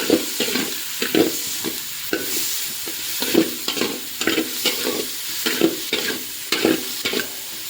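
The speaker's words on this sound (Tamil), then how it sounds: "பாருங்கள், வெங்காயம் கொஞ்சம் வதங்கிட்டே இருக்குது" Onions sautéing in a pan, with steady sizzling and rhythmic scraping stirring strokes coming roughly every half second or so, close and fairly loud, with no talking.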